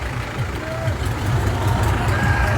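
Tractors at a farmers' Republic Day rally on a national highway push through a barricade, their heavy diesel engines rumbling steadily and close, with voices in the background.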